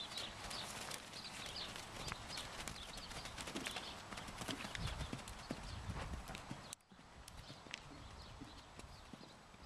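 A horse jumping a course of painted show jumps outdoors, its hooves clip-clopping in a steady, rhythmic gait, fairly distant and soft, with faint birdsong in the background.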